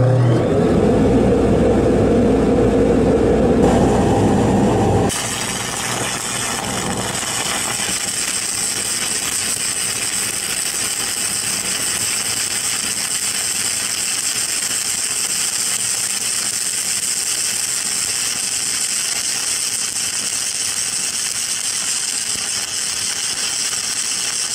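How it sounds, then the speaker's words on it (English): An Avani SPC2000 fume extractor runs in a welding shop, a loud, steady whirring hiss that starts up after a few seconds of lower rumbling and then holds evenly to the end. "crank up this nice Avani SPC2000 fume extractor"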